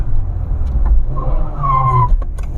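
A Mitsubishi Evo VI Tommi Makinen edition pulls hard in third gear, its engine note climbing in a loud, close rising rev with a brief tire-like squeal near the end.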